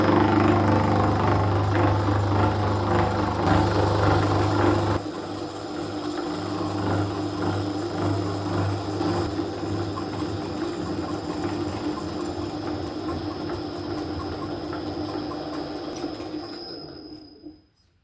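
A milling machine cutter moves side to side to widen a slot in metal, a steady mechanical hum and whine that drops in level partway through, then fades out near the end.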